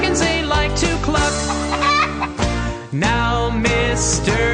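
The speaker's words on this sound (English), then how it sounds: "the chickens they like to cluck" Chickens cluck loudly and close in a dense, busy stretch of overlapping calls, with no talking.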